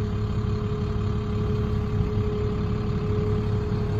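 A 2010 International 7400 crew cab dump truck with snow plow idles at close range, a steady low diesel rumble with a constant mechanical whine, smooth and unchanging, with no talk.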